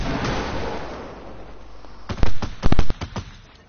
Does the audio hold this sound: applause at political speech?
no